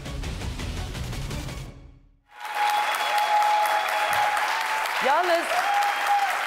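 Sustained studio audience applause fills a Turkish daytime TV show, loud and dense, breaking off briefly before resuming strongly as a voice speaks over it.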